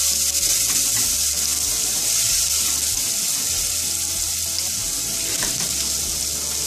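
Chopped garlic frying in a pan for Kerala prawn pickle, with asafoetida already in the oil: a continuous moderate sizzle with faint crackles and an occasional soft stir, no voices.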